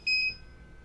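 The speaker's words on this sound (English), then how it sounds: "Too sure what all the beeping's about, but okay." A remote-controlled electric turntable gives a short, bright electronic beep as it is switched on, a single clear tone lasting a fraction of a second and then fading into quiet.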